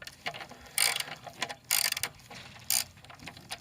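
Ratchet wrench loosening 10mm bolts on the intake manifold of a Mustang GT, three separate bursts of rapid clicking ratchet strokes, close and clear with soft background noise between.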